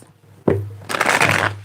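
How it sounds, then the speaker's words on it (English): A sharp snap followed by a rapid, riffling flutter of tarot cards being shuffled, close and fairly loud, with no talking. "Let me get one more shuffle here."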